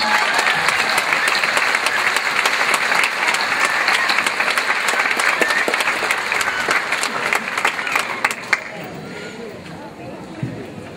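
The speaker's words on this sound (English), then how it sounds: "Would you please rise for a big round of applause?" A large commencement audience claps steadily and loudly for several seconds before the applause tapers off into quieter scattered claps.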